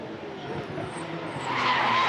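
A GT race car skids under braking into the first corner at the Hungaroring, a brief tire scrub and squeal over engine noise that builds louder toward the end of the two seconds.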